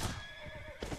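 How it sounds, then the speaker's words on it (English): A horse in a video game lets out a whinnying neigh, with hoof clatter beneath and a second short neigh burst near the end, moderately quiet and without speech. "Fuck your horse, Raymond."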